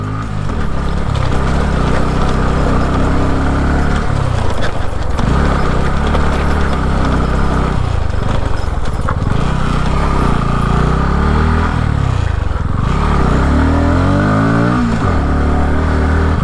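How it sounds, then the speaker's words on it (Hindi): A Bajaj NS200 motorcycle engine roars loudly at full throttle during a burnout, revving up and dropping several times in repeated surges, with no speech. "एक्सीलेटर फुल थ्रॉटल के साथ चलूँगा"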